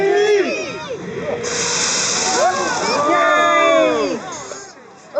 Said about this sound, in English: what could happen in your kitchen if you were to put water on a grease fire